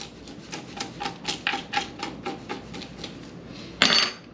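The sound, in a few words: scraping scales off a panfish with a spoon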